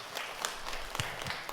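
Scattered, faint clapping from a church congregation during a Sunday service, a few distinct claps rising above a soft patter.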